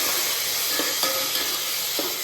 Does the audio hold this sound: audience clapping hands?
no